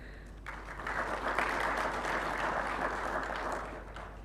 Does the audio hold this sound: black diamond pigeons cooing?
no